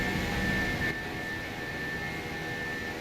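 An Airbus airliner flyby in a flight simulator game: a steady, droning jet engine roar with a constant high whine, slightly louder at first and then settling to an even level.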